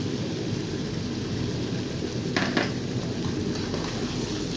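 Chicken bhuna masala with tomatoes stirred in a pan: a steady, close sizzle runs throughout, with a brief scrape of the spoon near the middle.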